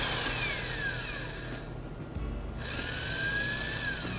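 A power drill with a 1.5-inch bit bores slowly into the top of an apple, giving a steady close whine that briefly dips and strains midway before picking back up.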